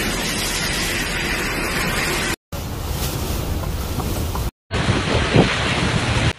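Strong storm winds roar across Al Ain in the UAE during a violent low-pressure storm, a dense continuous rushing buffet on the microphone in three loud stretches broken by brief cuts.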